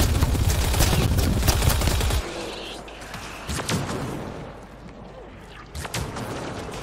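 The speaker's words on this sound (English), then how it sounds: "Oh shit, turret!" A turret in the video game Mass Effect Andromeda fires a rapid burst of gunfire that stops abruptly, then scattered booms and whooshes of combat follow at a lower level.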